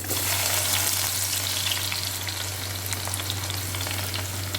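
Garlic frying in hot oil in a pan for a squid dish, a steady dense sizzle with a low electrical hum beneath it, close and continuous with no talking.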